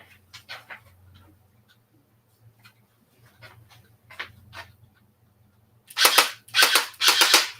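Plastic clicks from a light gun controller as start is pressed, a few scattered light taps followed by three louder, sharper clacks near the end, close and otherwise quiet.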